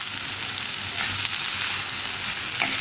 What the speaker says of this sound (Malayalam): ഇനി നന്നായിട്ടൊന്ന് വഴറ്റിയെടുക്കാം